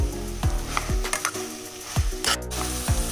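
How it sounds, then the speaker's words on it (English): Chicken sausages with pepper and cheese sizzle in a pan. A utensil scrapes through them in a steady rhythm of repeated stirring strokes, close and clear, with no talking. "I'm now going to let these sausages fry for another 3 minutes"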